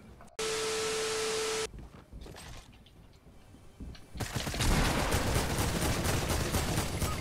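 Fortnite gunfire bursts: a sustained tone first, then sparse shots, then a long, loud, dense stretch of rapid shooting and impacts filling the final seconds.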